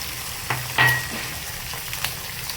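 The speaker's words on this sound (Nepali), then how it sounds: "चट्टाला अंडा हालिदिने।" Egg frying in a pan for egg fried rice gives a steady close sizzle, with a brief louder burst as it hits the oil and a few light scrapes of a spatula, no voices.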